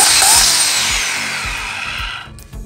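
Huter ELS200p electric chainsaw starting up, a loud continuous whine with an uneven motor hum that holds for a couple of seconds and then cuts off abruptly.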